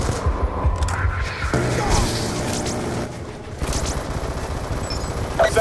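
Sustained gunfire and booms from a Call of Duty Black Ops II battle mission fill the scene, with dense automatic bursts throughout and radio-style voices talking over the shooting.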